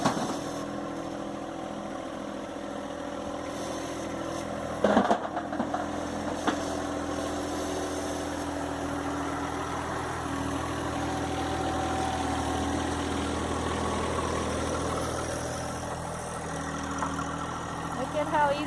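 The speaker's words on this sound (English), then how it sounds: "Look at how easily he handles that tractor." A tractor engine idles and runs steadily at a garden plot being reworked, a constant mid-low rumble throughout with a brief knock around the middle, while people talk over it.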